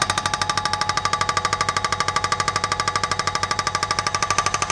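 A hydraulic breaker hammers concrete around steel posts at a shed build site, with a loud, fast, unbroken train of metallic blows close by.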